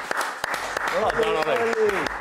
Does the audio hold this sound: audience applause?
yes